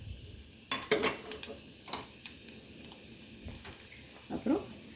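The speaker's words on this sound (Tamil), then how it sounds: "தாளிக்கிற வடகம் போட்டுக்கோங்க" Tempering vadagam sizzles and crackles as it fries in sesame oil inside a cooker while making sundakka kuzhambu, with soft stirring and a few light clinks of a utensil; the frying is quiet and steady.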